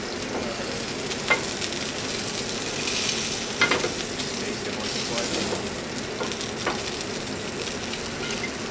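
Snapper skin frying in hot olive oil while being basted, a continuous crackling sizzle with occasional sharper pops and spatters, close and moderately loud.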